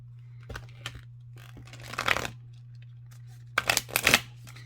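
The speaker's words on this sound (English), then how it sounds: "it's too big for my hands to shuffle all of those cards that way" An oversized tarot deck is shuffled: cards riffle and slap together in a few brisk bursts, two louder shuffles near the end, with quiet handling sounds between them and no voices.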